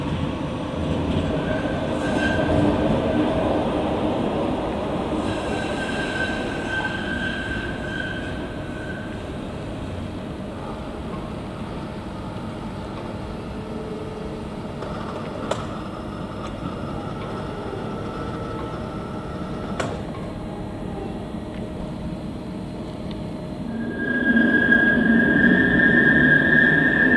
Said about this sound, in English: incoming tram rides on the main lines by diesel engine